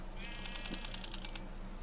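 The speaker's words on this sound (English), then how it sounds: "oh, sheep" A sheep bleats in a blocky Minecraft world running the Thaumcraft mod, a short series of evenly pulsed bleats over a steady low background.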